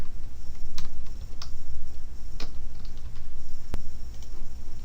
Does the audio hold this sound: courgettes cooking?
no